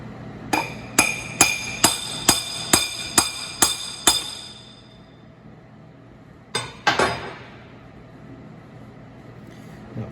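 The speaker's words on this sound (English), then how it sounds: "So let me get my punch lined up and we're going to start driving this thing in." A hammer drives a punch to seat the main shaft into an Allis Chalmers WD tractor transmission: eight sharp, evenly spaced metallic blows ring out close by, then a pause and a few quicker strikes.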